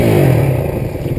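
A motorcycle engine revs hard for a moment, close and loud with a rough clattering edge, then settles back as the clutch is worked, all within about a second.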